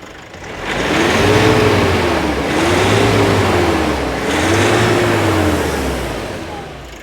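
A truck engine that has been spitting oil runs at idle, close and loud, its drone swelling and easing in three slow waves as revs rise and fall.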